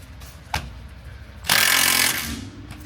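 A Milwaukee M12 power tool working a suspension bolt on a VW Golf R, a short sharp click followed by a loud, harsh impact burst of about half a second, close by.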